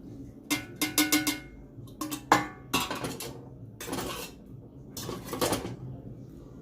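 Pasta being tossed into a pan of thickened Alfredo sauce, with sharp metallic clinks and scraping knocks from a utensil against the pan in irregular bursts, close and fairly quiet with no talk.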